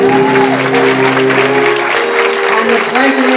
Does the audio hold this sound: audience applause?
yes